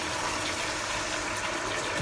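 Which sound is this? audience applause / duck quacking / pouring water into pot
pouring water into pot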